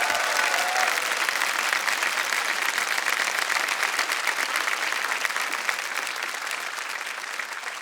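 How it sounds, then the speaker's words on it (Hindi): A studio audience at a televised quiz show applauds a contestant with dense, sustained clapping that stays loud for several seconds and then eases slightly. "तालियां बज जाए इनके लिए।"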